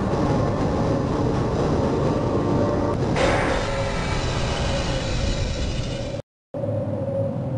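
Tram train in Half-Life pulling into the Sector C test labs station, a loud steady rumble and rattle of rail cars with a brightening hiss partway through, cut by a brief dropout near the end.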